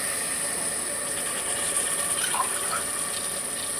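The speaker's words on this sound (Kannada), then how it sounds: "2 ಗ್ಲಾಸ್ ನೀರು ಹಾಕ್ತಾಯಿದ್ದೀನಿ." Two glasses of water are poured into a pot of rinsed, fried rice for a fenugreek-leaf pulao, making a soft, steady gushing trickle that stays fairly quiet and even for nearly four seconds.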